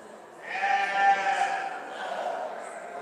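Valais Blacknose sheep bleat at a show at Borderway, Carlisle, one long wavering bleat rising and swelling, fairly close and clear over a faint hall background with no talk.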